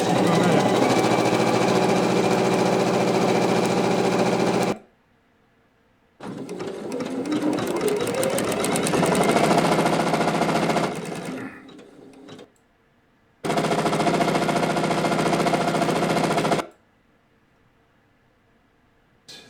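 A Janome Memory Craft 500e embroidery sewing machine stitches at about 860 stitches per minute. Its loud, fast, buzzing whir comes in long bursts separated by short silences, with one stretch that shifts in tone.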